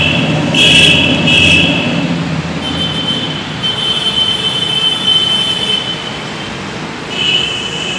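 A Lucknow metro train pulls into Transport Nagar station on the right-hand track, wheels squealing with high metallic whines over a steady rolling rumble, close and fairly loud.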